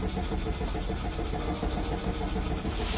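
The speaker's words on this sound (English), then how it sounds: "the car was becoming increasingly difficult to start, and at the end, it did not want to start at all." A car engine that has grown hard to start churns and sputters continuously without catching, a steady low mechanical drone with faint rhythmic pulses. Outdoors on a road trip in the Dovre National Park area of Norway.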